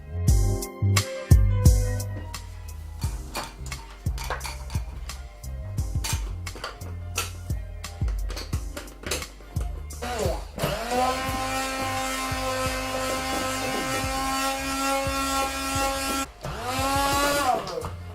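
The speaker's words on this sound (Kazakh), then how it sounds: "Блендердин жардамында майдалайбыз." An electric blender purees cooked pumpkin cream soup: clattering and knocking come first, then a steady, loud motor whine that runs for several seconds, dips briefly, and resumes.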